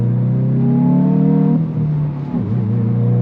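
A 2022 Hyundai i20N engine revs hard while accelerating, a loud, close droning roar that climbs steadily, dips briefly twice as if shifting gears, then pulls again.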